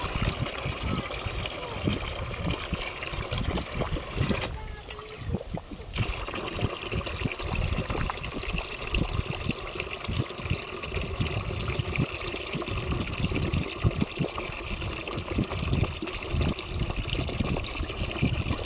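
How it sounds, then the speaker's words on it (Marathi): Water running from a household tap, a steady broadband rush and trickle that continues throughout with a brief dip partway, with no voices heard over it. "जा कॉक चालू करून की."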